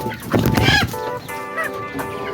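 Egyptian chickens, including a cock, cluck and squawk at close range on a small farm, with several quick bursts over a low background murmur.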